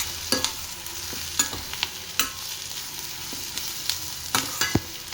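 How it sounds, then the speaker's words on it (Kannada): Onions fry in a pan for a garlic pepper rice dish, a soft steady sizzle punctuated by sharp clicks and scrapes of a spatula at irregular intervals, close, with no talking. "ಸೊ ನೀಟಾಗಿ ಇದ್ರದ್ದು ಹಸಿ ಸ್ಮೆಲ್ ಹೋಗೋವರೆಗೂ ಫ್ರೈ ಮಾಡ್ಕೊಳ್ಳೋಣ"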